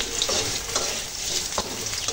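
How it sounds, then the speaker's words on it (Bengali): Potatoes fry in a pan for a cauliflower and fish curry, a bright sizzling hiss broken by a few soft scrapes of stirring, close and without speech. "প্রথমে আলুগুলো ভেজে নিলাম।"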